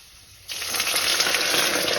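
Water poured into a hot pan of frying potstickers (Chinese dumplings) bursts into a loud, steady hissing sizzle after a brief quiet moment, rising suddenly and holding strong until the end.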